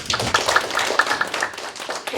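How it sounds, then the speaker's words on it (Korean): A congregation claps at a Korean church New Year's Eve worship service, with brisk, fairly close hand claps repeating in a loose, quick rhythm for about two seconds. "우리 하나님께 영광의 박수 할까요?"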